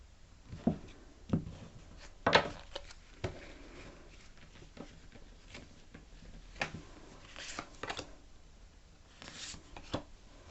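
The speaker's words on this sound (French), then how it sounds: "Allez, je vais tirer les dernières cartes." Tarot cards are drawn and laid down from a deck, a string of soft, close papery flicks and light taps at an irregular pace, with quiet gaps between them.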